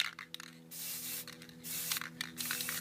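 Never Wet repellent hisses in several short bursts from a spray can onto Nike and Jordan sneakers, close and fairly loud, separated by brief pauses.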